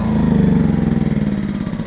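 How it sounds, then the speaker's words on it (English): A Yamaha EF2200is inverter generator runs close by with a steady, rhythmically pulsing engine drone. There is no talking. "when you turn on the economy mode, you can hear that the engine throttles down, it gets quieter, uses less fuel"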